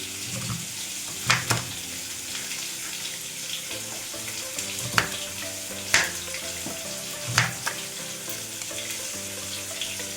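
Guavas rinsed under a running kitchen tap, with a steady wash of water into the sink broken by a few sharp knocks and clunks as the fruit and utensils are handled.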